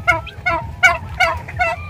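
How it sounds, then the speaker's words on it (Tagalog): Giant turkeys on a farm give about five loud, close, harmonic calls in a steady rhythm, each call roughly a third of a second, with short gaps between them and no talk. "Ito po yung aking mga pabo"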